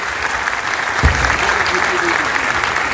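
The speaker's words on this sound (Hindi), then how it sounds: "इधर भरपूर क्लैपिंग कीजिए ताकि माहौल को गर्मा किया जा सके।" An audience at a business seminar claps in sustained, hearty applause, with a brief thump partway through and faint tonal sounds mixed in.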